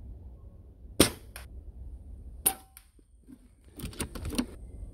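FX Maverick .22 airgun fired outdoors in bitter cold: two sharp, separate cracks about a second and a half apart, then a cluster of quieter clicks and snaps, against faint low wind rumble.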